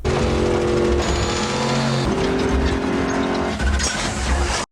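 A car engine roars and revs loudly in an action scene from The Fate of the Furious, with shifting pitch, tire noise and a sudden change midway, continuous and close.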